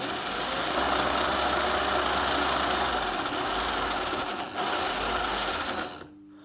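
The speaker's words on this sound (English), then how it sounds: "The motor's not completely dead." The small electric motor of a Jouef Class 29 model locomotive whirs steadily at high speed, a dense close buzzing hum that dips briefly and then cuts off near the end.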